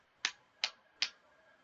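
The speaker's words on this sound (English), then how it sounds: "Reluctant applause." Three sharp, evenly spaced claps or snaps, slow and deliberate, each crisp and close, with silence between them, like reluctant slow clapping.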